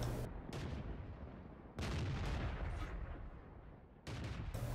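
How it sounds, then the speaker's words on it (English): The FV304 British artillery piece fires in a video game: several heavy, booming blasts, each followed by a long rumbling roll-off, spaced a second or more apart. "The other nice thing about the FV304 is that it has a really sharp angle to it, like a lot of the British artillery"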